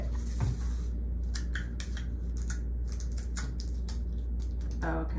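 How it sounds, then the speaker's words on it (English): Adhesive tape is pulled and pressed onto a folded icing bag for cookie decorating, heard as quick crackly rips and taps close by, in a run of short bursts over a low room hum. "Okay, so I'm taping it."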